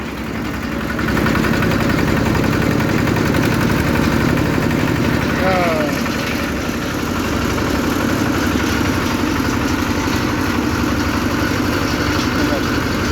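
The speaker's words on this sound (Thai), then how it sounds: "เดี๋ยวผมจะเล่นเครื่องให้นิดนึงนะครับ" Single-cylinder engine on a Fengyun rice threshing machine running loud and close, a steady throbbing chug that rises slightly as it is revved, with someone talking over it.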